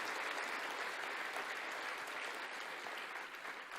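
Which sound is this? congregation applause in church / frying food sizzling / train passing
congregation applause in church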